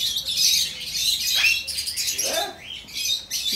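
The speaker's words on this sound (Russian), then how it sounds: "Я боюсь попугая." A parrot squawks and screeches repeatedly at a zoo monkey park in Tenerife, harsh cries close by over a busy background with people talking faintly.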